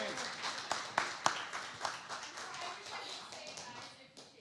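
A short burst of clapping from a small group at a candidates' panel event, sharp claps at first thinning out over a few seconds.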